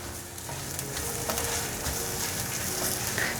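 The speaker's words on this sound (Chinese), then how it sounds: "快速翻炒。" Fermented black soybeans and minced ginger stir-fry in hot oil, a continuous crackling sizzle with scattered scrapes and taps of a spatula against the wok, moderately loud and close.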